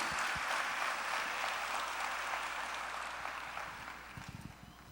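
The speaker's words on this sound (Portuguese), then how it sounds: "Aplaudam o Senhor pelo que vocês acabaram de ouvir." A church congregation applauds at a Portuguese-language service, dense steady clapping that slowly thins and fades toward the end.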